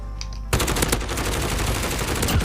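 Rapid automatic assault rifle fire in Modern Warfare, a loud, close burst of evenly spaced shots running continuously after a brief quiet start, with no talking.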